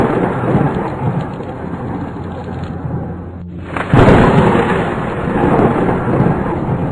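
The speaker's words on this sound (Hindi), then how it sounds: "उस रात बहुत बारिश हो रही थी। बिजलियां जोर जोर से कड़क रही थी।" Heavy rain pours in a loud steady roar while thunder rumbles, with a brief dip around three and a half seconds before a strong crash of thunder renews the downpour, close and dense throughout.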